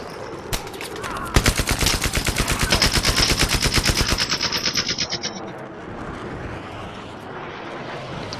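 Machine gun fire in the video game Battlefield 3 comes as a long, rapid, evenly spaced burst of loud close shots, followed by fading echo and aircraft engine noise.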